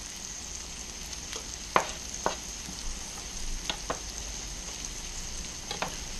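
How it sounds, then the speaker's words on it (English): Pear halves sizzle and fry in a hot pan over medium-high heat, a steady soft crackle with a few sharp scrapes and clinks of a utensil stirring, fairly quiet and without voices. "we still have this on like a medium high because we want to caramelize the face of those pears"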